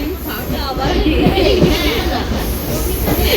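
A steady rumble and rattle of a moving passenger train carriage on a suburban line near Barrackpore, India, with people chatting and children's voices in the background.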